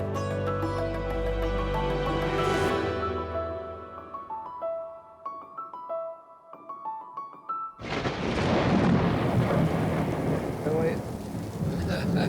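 Musical tones give way to a sudden burst of loud, dense rain with rolling thunder, the downpour filling the last few seconds close and heavy.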